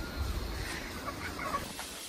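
A local village rooster gives soft, brief clucks in the background over a low rumble, faint and at a distance.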